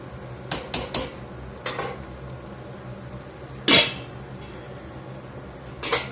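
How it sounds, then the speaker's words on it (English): Meaty bone shanks are dropped into a pot of gumbo z'herbs simmering with greens, giving a few sharp clanks and thuds against the pot early on, then one louder clatter and a final knock, with quiet stretches between. "I'm gonna throw these bone shanks in there and let them cook with it."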